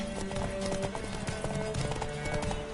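Horse hooves clip-clop steadily in The Witcher 3 video game, a close, continuous beat over a busy game soundscape with a brief whinny-like tone and low voices in the mix.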